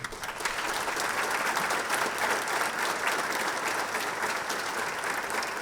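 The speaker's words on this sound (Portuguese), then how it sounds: "Eu quero iniciar pedindo uma salva de palmas pela passagem do deputado Alan nesta casa" Sustained applause fills a legislative assembly chamber in Salvador, Bahia, a dense steady roar of many hands clapping at even loudness throughout, with no speech over it.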